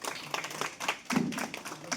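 Brief, fairly faint audience clapping at a felicitation program for newly elected TJA members, a short patter of hands lasting about two seconds.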